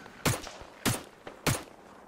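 Arma 3 rifle shots crack in a steady series, three distinct sharp reports roughly half a second apart with a fainter one between, moderately distant over quiet background.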